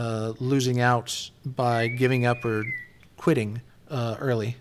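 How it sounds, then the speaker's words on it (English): A phone's Star Trek-style whistle text alert sounds as a brief rising then steady tone partway through, faint beneath someone talking continuously. "It's the Star Trek whistle, and it notifies me when I get a text message,"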